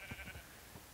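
Sheep bleating in Minecraft, a short, faint, wavering bleat with a couple of pulses early on, heard alone.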